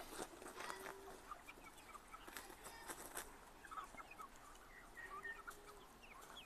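Turkeys and other fowl in a poultry yard cluck and gobble in scattered, faint calls over a soft outdoor background, with no one speaking.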